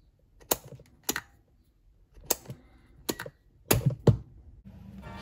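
Sharp plastic clicks from an emergency stop switch being snapped into its enclosure, about six distinct close, crisp snaps spaced irregularly with quiet gaps between, no talking.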